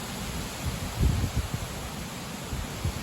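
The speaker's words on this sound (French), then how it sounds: "Voilà, des bons vents forts là." Strong gusty wind on a blustery, partly sunny September day, a steady broadband roar with low rumbling buffets and soft leafy rustle swelling around the middle, no voices.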